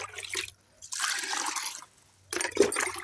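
Water is poured from a container onto garden plants in pots, including eggplant and ridge gourd, in two splashing bursts separated by a quiet pause, close and moderately soft.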